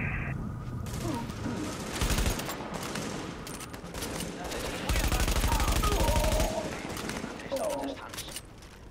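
Automatic gunfire in the video game The Division, with bursts of rapid shots around two seconds and a sustained loud volley from five to six and a half seconds, mixed with other game effects and talk throughout.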